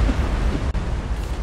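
Torpedo explosions in the space battle game Battlefleet Gothic: Armada 2 make a loud, dense, rumbling roar that fills the brief moment with a short dip midway.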